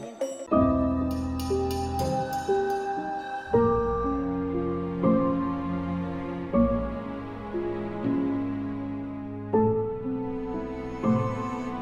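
A resonant stone is struck in a cave in a steady series of ringing blows, each giving a tonal, drum-like note that rings on and overlaps the next, close and clear.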